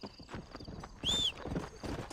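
Horse hooves clip-clop steadily in Red Dead Redemption, close and fairly quiet, with one short whinny partway through.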